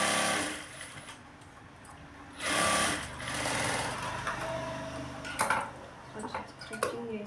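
A sewing machine stitches a lined blouse in short bursts of rapid mechanical whirring, the longest near the middle, separated by quiet pauses. Scattered clicks and handling noises sit between the bursts.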